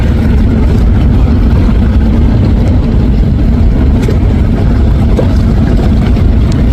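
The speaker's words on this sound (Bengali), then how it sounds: "অ্যাডভেঞ্চার 9কে ওভারটেক করে চলে আসতেছে সানক্যান ডেক টাইপের ছোট লঞ্চটি।" A small sunken-deck passenger launch overtakes the Adventure 9 launch on a river, its engine a loud, continuous low drone with churning water noise and no voices.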